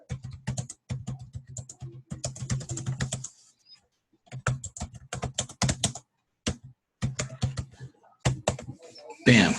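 Clattering bursts of typing on a computer keyboard, quick irregular runs of key clicks with short pauses between them and a louder tap at the end, all heard close up.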